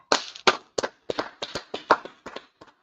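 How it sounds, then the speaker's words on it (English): Audience clapping in a gathering: a scattered round of individual hand claps, crisp and fairly close, about a dozen irregular claps over a few seconds with no voices. "Let's clap it up for the Most High."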